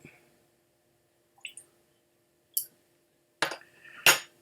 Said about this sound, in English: I'm going to add a bit of water.